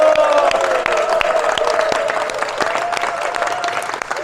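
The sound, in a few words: audience applause at school ceremony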